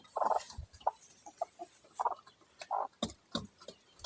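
A small, tame backyard chicken clucking in short, irregular bursts, close by and fairly quiet, with scattered soft scratching or movement sounds between calls.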